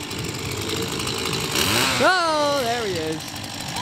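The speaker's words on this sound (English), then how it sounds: "You can hear the chainsaw already." A chainsaw revs at a horror attraction walkthrough, a steady engine drone that climbs into a rising, wavering whine partway through, loud and near, with a brief spoken remark over it.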